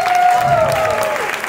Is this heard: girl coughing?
no